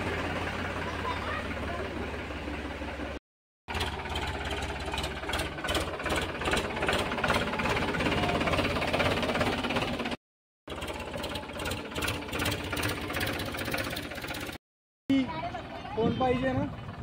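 A tractor engine runs steadily during a ride, a rhythmic mid-pitched chugging and rattling close by, broken by brief cuts, with people talking over it.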